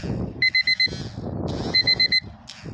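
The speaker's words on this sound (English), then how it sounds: "alarm clock" An alarm clock goes off outdoors during a walk near a highway: two bursts of four rapid, bright electronic beeps, close and loud, over faint background rustle.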